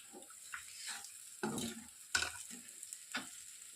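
Ivy gourd and onion fry being stirred in a pan with a spatula, giving soft intermittent scrapes and sizzles, with a few sharper clinks against the pan, fairly quiet and close, no talking.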